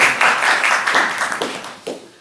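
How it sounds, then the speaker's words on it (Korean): Church congregation applauding during a Sunday worship sermon in a Beijing church, a brief burst of many hands clapping that swells and then fades away over a couple of seconds. "박수 한번 해주세요."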